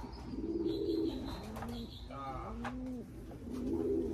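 A young bird nesting in a tree coos in soft, repeated low phrases, steady and fairly close, with faint background noise and no speech.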